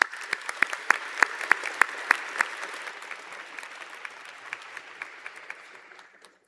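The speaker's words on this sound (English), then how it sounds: "give him a big round of applause" A graduation convocation audience claps for a graduate, sharp individual claps standing out at first before settling into a softer, sustained round of applause that fades toward the end.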